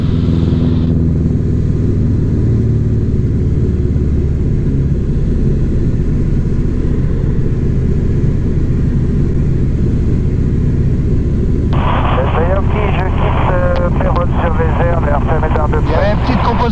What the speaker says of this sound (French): Petit décollage, petit survol de Pérol.